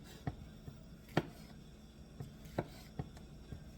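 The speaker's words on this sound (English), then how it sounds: "You're going to slice these mushrooms." A knife taps a cutting board in a few sparse, uneven chops while slicing mushrooms, separated by short pauses over a quiet background.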